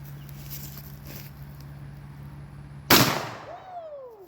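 Two 12-gauge buckshot shells fire at once as a single loud, close blast that cracks sharply and then decays over about a second, after a steady hum of background noise.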